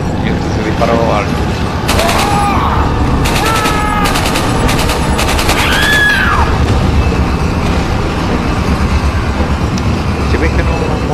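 Rapid bursts of gunfire crack through a busy Resident Evil 4 game soundscape on Wii, several volleys in quick succession over a constant low rumble, with a voice talking at times.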